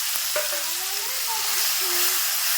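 Garlic and ground chili paste fry in hot oil, giving a close, steady sizzle with faint stirring sounds throughout.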